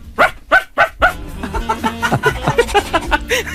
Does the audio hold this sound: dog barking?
yes